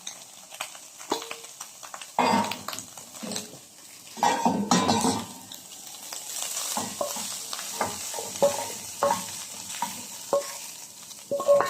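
Meat sears in a frying pan for a stuffed Christmas turkey dish, a steady sizzle broken by loud stirring scrapes and clinks of utensils against the pan, with no talking.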